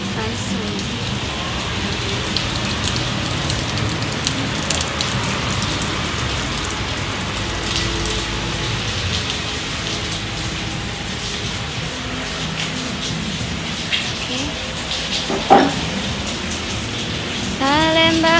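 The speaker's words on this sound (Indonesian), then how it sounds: "Wow, Palembang lagi hujan." Steady rain falls in Palembang, a dense continuous hiss of drops on surfaces with occasional louder splashes, faint voices and background activity mixed in.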